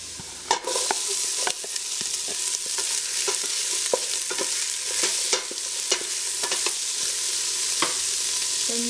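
Onions hit hot oil in a pan for vegan Filipino rice porridge, giving a steady bright sizzle with crackling pops and periodic utensil clicks as they are stirred, no one speaking.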